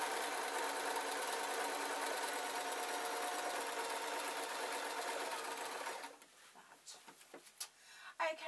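A sewing machine stitches an unlined, collarless jacket in a steady, close whirring run for about six seconds, then stops, leaving quiet handling noises and a few brief knocks.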